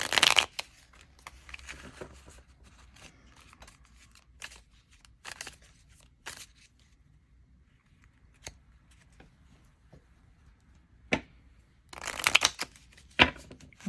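Tarot cards being shuffled and drawn, with bursts of riffling and flicking at the start and near the end and scattered light taps in between, close and fairly quiet.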